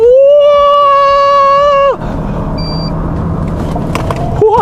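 A BYD Yangwang U8 in race mode on a launch-control start, carrying a heavy load. A loud, steady electric whine holds for about two seconds, then drops sharply into a rushing road-and-wind rumble as the vehicle pulls away.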